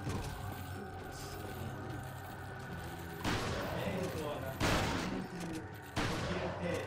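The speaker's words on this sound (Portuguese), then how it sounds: "pega a escopeta, a arma mais roubada do jogo" Three heavy shotgun blasts in Resident Evil 4, spaced a second or so apart and each followed by a brief roar, after a stretch of steady game ambience; a voice talks throughout.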